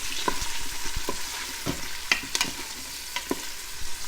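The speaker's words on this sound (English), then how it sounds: "I'm going to add my garlic and brown it for like 10 seconds and just keep stirring it" Garlic sizzles in an Instant Pot with onions while a spoon stirs steadily, crisp frying hiss under irregular scraping and clinking, close and without talk.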